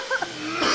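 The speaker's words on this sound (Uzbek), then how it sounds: "Yo'taling, mana shu ichiga yo'taling." A person gives one short, sharp cough into a sample container during collection in a parasitology laboratory. A faint murmur comes before it.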